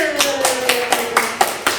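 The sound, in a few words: applause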